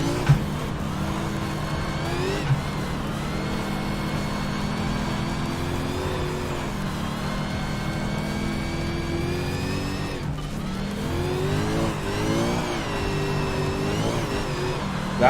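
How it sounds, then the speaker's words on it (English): A V8 car engine in a racing video game revs out in fourth gear, the pitch climbing and falling through repeated sweeps with brief dips between pulls, loud and constant, with no one talking. "Let that V8 rev out a little bit."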